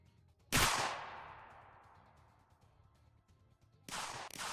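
Riot-control handguns fire rubber bullets inside a prison: one sharp, loud crack rings out with a long reverberant decay, and a second shot follows about three seconds later.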